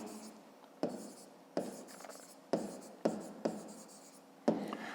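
A pen writes an answer by hand on paper during a 5th-grade maths lesson, in a series of close, sharp scratchy strokes, each starting abruptly and fading, with no talk.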